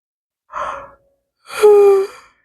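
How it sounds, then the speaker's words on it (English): A short breathy intake followed by a longer, drawn-out yawn that ends in a voiced, tonal groan, close to the listener. "There goes the yawn."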